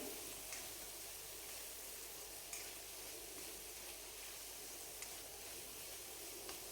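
Chopped onion and soaked chana dal sauté in a hot pan with a steady, even sizzle, broken by a few faint clicks of stirring, and no voices.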